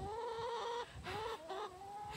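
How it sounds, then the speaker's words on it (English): A rooster crows in a few long, strained, harmonic calls with short breaks between them, close and fairly loud over a light background hum. "The rooster crows."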